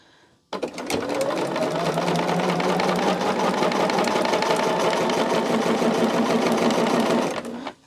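A sewing machine stitches in one continuous, fast, rhythmic run, starting abruptly and stopping after about seven seconds, close and loud, with no one talking.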